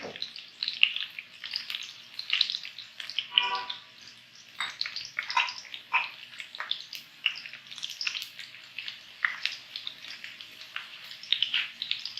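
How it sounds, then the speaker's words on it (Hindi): Garlic cloves frying in oil in a karahi, crackling and spitting in irregular bursts of hissing pops that rise and fall, fairly close, with a brief soft murmur partway through. "तो हमने थोड़ा सा फ्राई करना है ऑयल में लहसुन की जवों को।"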